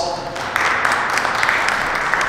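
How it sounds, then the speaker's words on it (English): Audience applause for the head coach of the Eastside High School football team at a Paterson, New Jersey town hall meeting in a public school: broad, steady clapping that swells after a moment and holds, with speech over it. "Let's give a round of applause."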